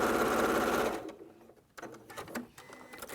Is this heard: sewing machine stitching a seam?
yes